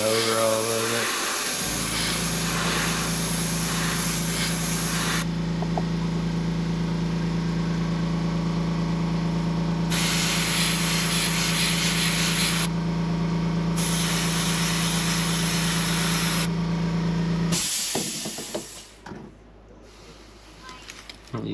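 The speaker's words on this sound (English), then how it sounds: "I'm just going to lightly spray it over all of it." An airbrush lightly sprays paint over a swimbait being painted in a pumpkin seed pattern, giving a steady close hiss with a faint compressor hum beneath that runs for most of the stretch before cutting off near the end.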